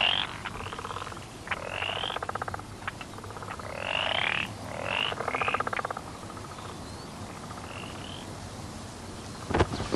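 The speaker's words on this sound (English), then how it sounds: "You hear the frog every so often." Frogs croaking by a brook in the countryside, repeated rattling croaks in short bursts over a steady hum of insects, moderately close, with no voices.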